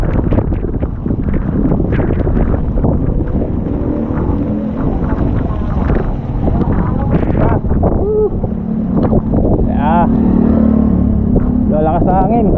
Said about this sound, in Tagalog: Lalakas sa hangin.